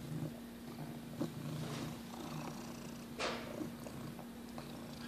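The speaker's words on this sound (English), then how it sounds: "She's purring" A soft, steady cat purr rumbles low and close, with a faint hum underneath and a couple of brief rustles.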